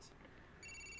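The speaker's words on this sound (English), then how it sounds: "The phone's ringing." A mobile phone in Grand Theft Auto IV starts ringing partway through with a bright electronic tone, preceded by faint in-game background sound.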